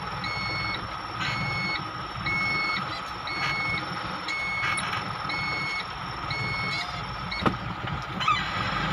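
Repeated electronic reversing beeps from an Isuzu Elf truck with a failing secondary clutch and leaking brakes, steady evenly spaced pulses sounding close over a rumbling idle engine and outdoor background noise, with a brief sharp knock near the end.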